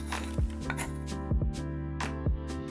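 Shallots are chopped with a knife on a board in a series of sharp, close chops. The cuts come in small bursts over a steady low hum, and no one speaks.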